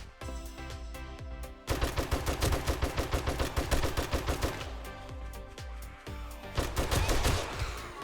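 M60 machine gun firing in the video game 7 Days To Die during a multiplayer horde night, a pause and then long rapid bursts of loud gunfire with overlapping game sounds and music, no voices.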